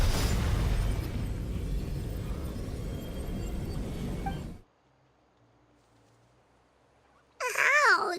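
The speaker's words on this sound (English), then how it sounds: "You were all caught in the shockwave of the explosion" A Genshin Impact game explosion sounds as a loud, sustained roaring blast for several seconds. It cuts off to near silence, then a short wavering magical effect sounds at the end.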